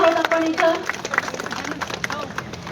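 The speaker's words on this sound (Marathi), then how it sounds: "तर कृपया जोरात टाळ्या होऊ दे." Audience applause at an event inauguration: a burst of crowd clapping that follows a tonal passage, with voices and murmur mixed into the sharp hand claps.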